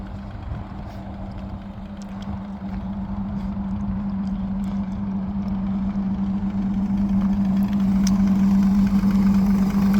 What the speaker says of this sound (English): Engine's a little bit louder with the cover off than with it on.